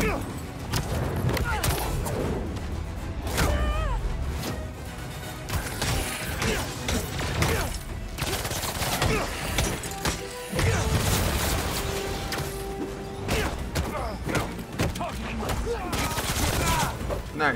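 Constant bursts of gunfire rattle through a Spider-Man video game fight, loud and near, mixed with crashes, impacts and effects, while a player talks over the action.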